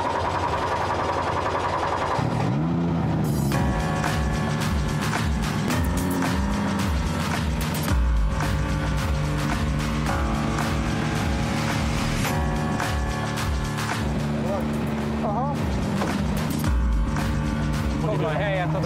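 A Hyundai i20 R5 rally car's engine starts and runs, a loud close mechanical roar with revving and shifting pitch throughout, while people talk over it.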